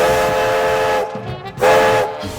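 A red steam locomotive on a heritage railway sounds its whistle in long, loud, sustained blasts, the steady harmonic tone breaking off briefly and returning over a rumbling background.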